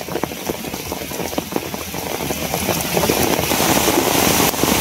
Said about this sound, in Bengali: আর দেখা যেতাম না বৃষ্টিতে আমিও ভিজে যাইতেছি গা